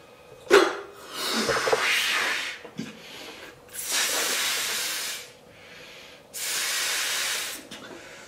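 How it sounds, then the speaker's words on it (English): A balloon blown up by mouth for a homemade hovercraft: several breathy, hissing puffs of air lasting about a second each, separated by short pauses, close and fairly loud. "And then we're going to blow our balloon up."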